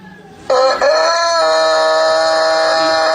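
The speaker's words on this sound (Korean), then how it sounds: "닭소리 한번 들어보십시오." A rooster crows loudly and clearly in a recording played back, one long sustained call that starts abruptly and holds to the end.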